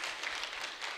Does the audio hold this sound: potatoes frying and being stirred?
no